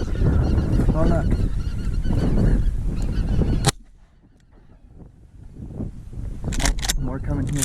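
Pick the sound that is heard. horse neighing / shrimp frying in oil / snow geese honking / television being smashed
snow geese honking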